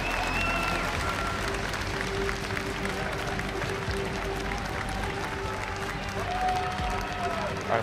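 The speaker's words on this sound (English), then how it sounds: "on applaudit encore une fois toutes ces équipes représentants de la LPL" An audience applauds steadily at the 2015 League of Legends World Championship group stage, a sustained wash of clapping and crowd noise lasting throughout, with background music and a commentator's voice underneath.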